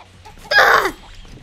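A chicken in a video game lets out a single loud, squawking cluck that rises quickly and falls away, close and clear over quiet background noise.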